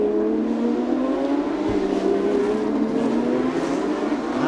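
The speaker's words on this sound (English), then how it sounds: "It's the sound of those boxer engines on the back." Porsche race cars with boxer engines roaring past on a circuit, a loud continuous engine drone with rising pitch as the cars race by, no talk.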